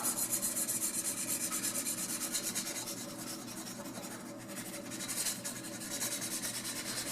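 Cake leveler slicing across the top of a cake, a steady rhythmic rasping and rubbing as the blade saws back and forth, close and soft.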